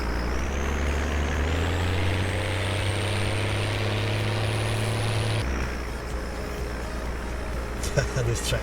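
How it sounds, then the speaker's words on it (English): In Farming Simulator 17, a heavy tractor engine drones steadily with a low rumbling tone and a rising whine, then drops in pitch partway through, continuing loud and close. "This tractor, it sounds so good."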